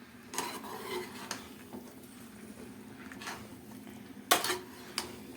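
A spoon scrapes and clinks against a cooking pot while eggplant and potatoes are stirred, with irregular metallic taps and scrapes over a soft sizzle, close and fairly quiet.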